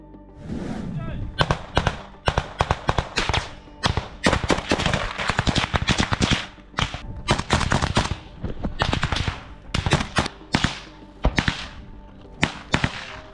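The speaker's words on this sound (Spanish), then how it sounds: "Estas imágenes se produjeron en medio de un tiroteo con las tropas rusas en Andrivka" Gunfire during a shootout with troops near Andrivka: rapid bursts of automatic fire and sharp single cracks, loud and close, repeating in irregular clusters across the whole stretch.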